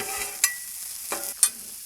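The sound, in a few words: broccoli being stirred with oil on a Blackstone griddle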